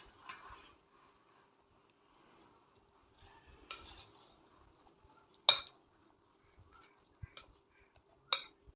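A mixed fruit ice cream salad is stirred in a bowl with a spoon, making faint, sparse clinks and scrapes separated by near-silence, with a few sharper taps.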